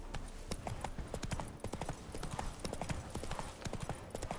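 A horse gallops in The Witcher 3, rapid rhythmic hoofbeats pounding steadily and close throughout a short stretch, with no talk over them.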